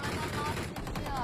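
Gunfire in the mobile battle royale game Game for Peace, heard as rapid bursts of sharp, crackling shots in quick succession, fairly close and loud, with some faint voices under the shots.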